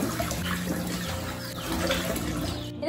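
Tap water runs steadily into a kitchen sink while a sponge is rinsed and washed like a dish, a continuous close splashing wash with no talk.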